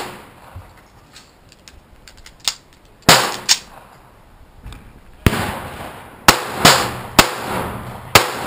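A Kimber Micro 9 pistol fires cheap reloaded ammunition with recycled brass and home-cast bullets, several sharp loud shots, first spaced apart and then in a quicker string, close to the listener.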